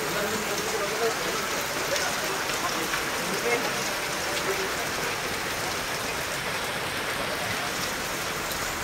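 Heavy Sunday evening rain pours over the streets of Kollapur town, with water running on the roads. It makes a constant, loud broadband roar of downpour with no breaks.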